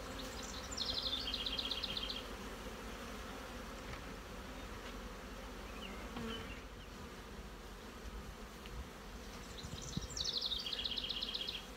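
Honeybees buzzing around a feeder where they are building comb, a steady close insect drone with higher buzzing bursts near the start and end, no talking.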